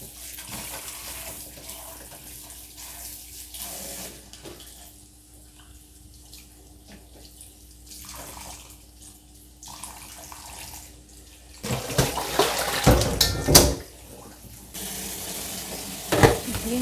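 Tap water runs while a mop is rinsed, a steady gentle flow that grows into a louder, splashier gush near the end, close by with no talking.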